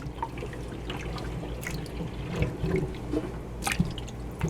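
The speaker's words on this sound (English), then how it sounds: "kind of pull the plug a little bit where the water can start draining out" Water draining from a kitchen sink after the plug is pulled during potato canning, with close dripping, trickling and gurgling sounds running continuously, plus a few clinks.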